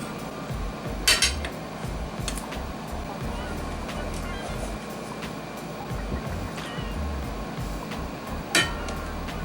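Grilled East African beef kabobs (mishkaki) go onto a plate with a few sharp clinks of dishes and cutlery over a steady low background hum.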